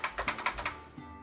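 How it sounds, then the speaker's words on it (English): Computer keyboard typing heard up close, a short run of six or seven sharp key taps at a brisk pace that trails off into near silence. "You can hear my keyboard."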